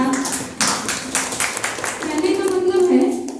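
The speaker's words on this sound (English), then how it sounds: "so a big clap for ma'am" At a school teacher-training session, an audience gives a short burst of clapping for a female teacher. Quick, dense claps are heard near the start, and a voice talks over the tail end.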